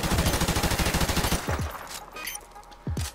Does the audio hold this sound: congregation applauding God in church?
no